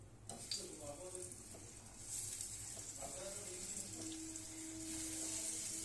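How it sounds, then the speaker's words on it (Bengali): Veg Manchurian balls are refried in hot oil in a nonstick pan, giving a steady, close sizzle that swells slightly toward the end, with faint clinks and murmuring voices underneath. "দেখুন আমি এগুলো মাঞ্চুরিয়ানগুলো আর একবার ভেজে নেবো ক্রাঞ্চি করার জন্য"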